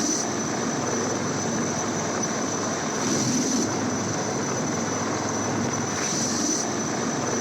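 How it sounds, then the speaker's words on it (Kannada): Rescue helicopters after a deadly cloudburst in Jammu and Kashmir drone continuously with rotor noise and engine whine, swelling twice as they pass, amid rain and wind. "ಹೆಲಿಕಾಪ್ಟರ್ಗಳ ಮೂಲಕ ರಕ್ಷಣಾ ಕಾರ್ಯಾಚರಣೆಯನ್ನು ಅಲ್ಲಿ ಮಾಡಲಾಗ್ತಾ ಇದೆ"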